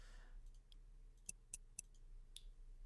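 Simple click sound effects, a few sharp isolated clicks spaced irregularly over quiet background hum, faint overall.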